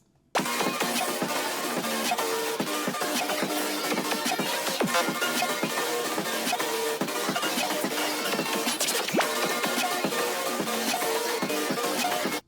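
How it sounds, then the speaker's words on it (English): Two music samples layered into one beat play continuously and loudly for about twelve seconds, a dense, full mix with steady rhythmic hits and no talking. "I layered these two samples together,"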